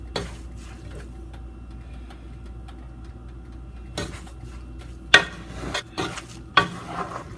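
Caramelizing coconut with Nido milk being stirred in a pan, a soft continuous sizzle under a low hum, broken near the end by several sharp scraping strokes of the spoon against the pan.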